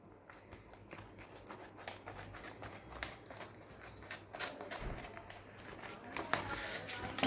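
Scissors cutting through the liner of a grain storage bag, a run of soft crisp snips and crinkles, close and quiet, with no one speaking.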